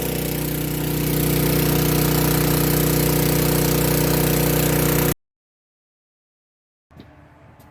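A SkyVac gutter vacuum engine runs loud and close with a steady droning roar, then cuts out abruptly into silence before a quieter rumble returns near the end.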